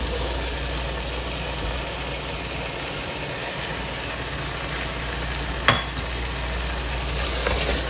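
White chickpeas sizzle in a frying pan of spiced masala for biryani, a steady close frying hiss with a single sharp tap of a utensil partway through.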